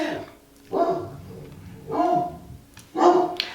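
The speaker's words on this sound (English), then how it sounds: "Please appreciate the ambiance of my dog" A dog indoors gives three loud, close barks spaced about a second apart, each short and sharp with quiet gaps between, heard alone without talk.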